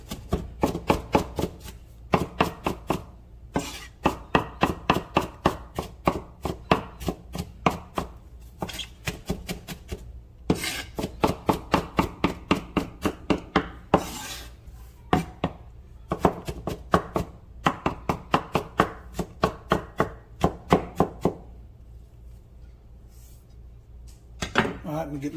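A knife chopping onions on a board for smoked meatloaf: a long run of quick, crisp, evenly spaced chops with brief pauses between bursts, close up and with no talking.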